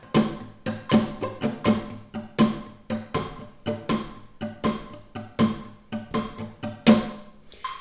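Flamenco guitar playing the abanico triplet, three strums per beat at 80 BPM, with bright, dense strokes repeating in a steady rolling pulse, close and alone.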